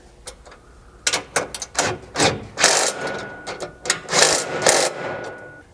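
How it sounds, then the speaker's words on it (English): A 1/2 inch socket and wrench working on the rear bumper hardware of a Polaris Ranger, with a series of close, sharp ratcheting bursts and metallic clicks separated by brief pauses. "you should just need a 1/2" socket and wrench for the remaining 1/2" hardware both here and here"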